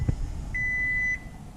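A single steady electronic beep sounds inside a used 2006 Scion car, one sustained tone lasting about half a second over quiet cabin rumble.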